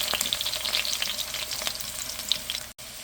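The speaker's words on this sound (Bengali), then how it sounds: "একটা ফ্রাই প্যানে তেল নিয়েছি 1 টেবিল চামচের একটু বেশি। তার ভিতরে দিয়ে দিলাম করল্লা।" Bitter gourd (karela) fries in a little over a tablespoon of oil in a frying pan, a steady close, bright crackling sizzle with a brief drop-out near the end.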